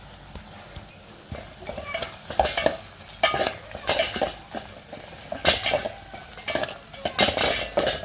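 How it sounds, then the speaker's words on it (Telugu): Ginger garlic paste is stirred into fried ingredients in a pan: irregular close scrapes and knocks of a spoon against the metal, with a soft sizzle underneath and no talking. "అల్లం వెల్లుల్లి పేస్ట్ కూడా వేసుకొని మొత్తం ఒకసారిగా కలిపేసుకున్నాం"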